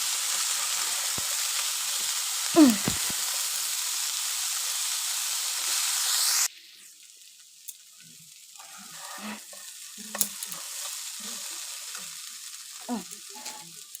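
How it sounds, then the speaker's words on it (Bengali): Spiced masala with salt and turmeric frying hard in a pan, a loud, dense hissing sizzle for several seconds that suddenly drops to a quiet simmer with occasional clinks of a utensil. "এবার এর মধ্যে নুন হলুদ সব দিয়ে একবারে মশলাটা কষিয়ে নিচ্ছি"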